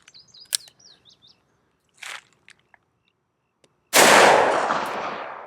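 Faint outdoor bird chirps and small clicks lead into a single loud, close shot from a Smith & Wesson 686 revolver with a 4-inch barrel fired at a Level IIIA body armor vest. The sharp crack rings out and decays over a second or more.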